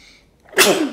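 A single sharp human sneeze bursts out loud and close after a near-silent moment, its noisy blast trailing off with a voiced tail.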